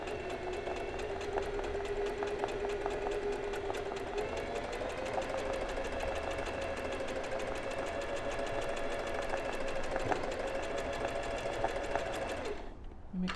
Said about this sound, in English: see how I'm stitching towards the inside?